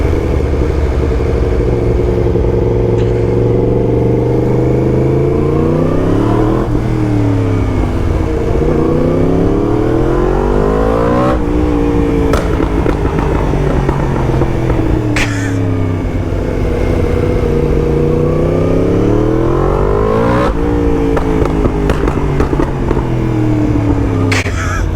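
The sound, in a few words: Yamaha MT10 motorcycle with loud Akrapovic exhaust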